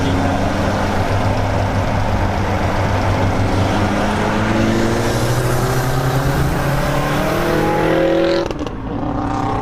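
A 600whp Subaru STI roars hard under acceleration while racing another car, its engine loud and close with rising revs that climb through the gears before easing off near the end.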